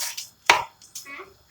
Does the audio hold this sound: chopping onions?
yes